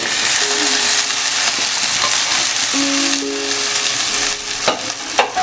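Boiled tapioca being stirred with egg in a hot pan, a loud continuous frying hiss close up, with a few scrapes and knocks of the spatula toward the end.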